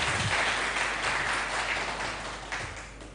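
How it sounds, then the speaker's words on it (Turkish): Applause from an audience at a public event, a broad continuous clatter of many hands at moderate distance that slowly tapers off, with no talking over it. "Bu alkışı da belediye başkanlarımıza ve sivil toplum örgütlerine gönderiyorum."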